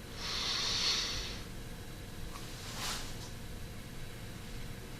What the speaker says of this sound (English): Big sniff.